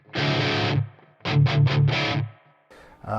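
Electric guitar driven hard through a Randall RH300 G3 amp with the noise gate on, played as chopped bursts: one long chord, then quick stabs and a held hit, each cut to silence between phrases.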